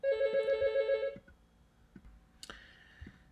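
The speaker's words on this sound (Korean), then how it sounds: "전화 또 받고 올게요" A telephone bell rings loudly in a quick warbling burst for about a second, followed by quiet room sounds and a few soft clicks in an indoor setting.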